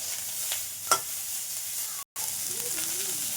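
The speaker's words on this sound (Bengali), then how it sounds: "সুন্দর করে ফ্রাই করে নিচ্ছি।" Curry leaves, onion, green chili and almonds frying together in a pan give a steady close sizzle, with a brief stirring scrape early on.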